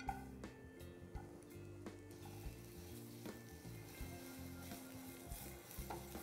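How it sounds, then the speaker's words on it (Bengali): Sliced onions sizzle in hot mustard oil, a low steady frying hiss with occasional stirring clicks, fairly quiet throughout. "মাস্টার্ড অয়েল, আমার তেল হয়ে গেছে গরম। এখন আমি দিয়ে দেবো পেঁয়াজ স্লাইস করে কেটে রাখা"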